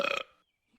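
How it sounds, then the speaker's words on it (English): A short, loud belch from a Simpsons cartoon bursts out for a fraction of a second and then cuts to near silence. "I won the belching contest at work."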